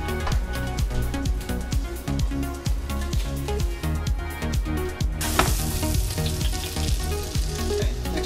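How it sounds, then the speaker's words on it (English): An egg frying over easy in a pan, a loud steady sizzle and crackle that continues throughout. "you give it like 10 seconds on this side to cook the egg whites"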